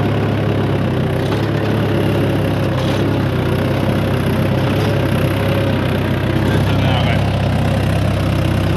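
An overloaded tractor engine runs steadily and loudly throughout, with a low continuous drone and rough, knocking texture as its wheels slip in a field.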